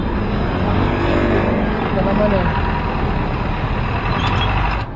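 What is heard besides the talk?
road traffic, vehicles and truck passing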